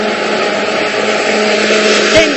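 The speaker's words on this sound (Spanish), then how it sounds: "Y lo vamos a licuar." A blender runs loud and steady, whirring through poblano pepper and corn cream soup for the whole stretch, close with no pause.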